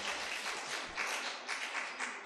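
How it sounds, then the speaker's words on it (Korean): Applause from a church congregation welcoming a speaker, a dense broadband patter of many hands clapping steadily for a couple of seconds at moderate, slightly distant level. "박수로 한번 환영하겠습니다"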